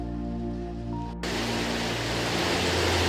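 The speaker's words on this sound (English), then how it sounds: "excuse the rain noise, but I love the sound of rain." Rain falls at night, starting abruptly as a dense, steady hiss that holds loud and even under a low hum, with no talking.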